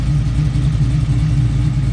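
A supercharged 427 engine in a GMC truck gives a loud, steady, deep rumble at close range, with no talking over it.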